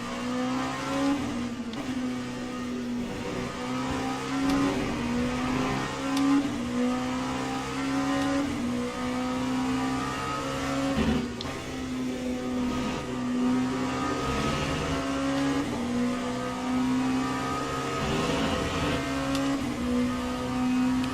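Race cars including a Porsche in the racing game Le Mans Ultimate at Spa, steady engine drone with rising and falling revs and gear changes, moderately loud and continuous with no talk.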